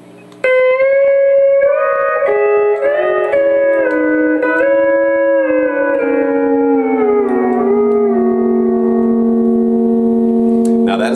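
Sustained pedal steel guitar chord played with the A pedal rocking, notes sliding and bending in pitch, ringing loud and close for about ten seconds.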